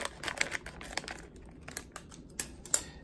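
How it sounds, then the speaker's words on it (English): Ordinary household scissors cut open a plastic bag of seasoning for fish, giving a run of crisp snips and crinkling plastic rustles, close and moderately loud, with no talk. "you just use your regular house scissors, cut it open"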